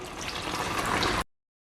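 About a cup of water splashes into a pot of sambar for about a second, a short pour close by that cuts off abruptly.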